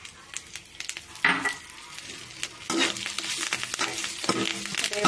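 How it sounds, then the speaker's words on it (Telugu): Bitter gourd frying in a pan, a continuous sizzle with repeated clattering stirs and scrapes, busier and louder in the second half. "వేగుతున్నాయండి, అయిపోయి వచ్చింది."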